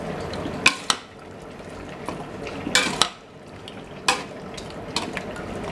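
Mutton curry with milk stirred in a pot, close metal spoon scrapes and clinks against the pot over a soft bubbling, wet simmer, several sharp knocks spaced irregularly, no talk.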